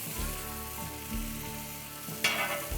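Food sears on a Ninja FlexFlame griddle with a steady, close sizzle, repeated low scraping touches, and a sharper hiss burst near the end.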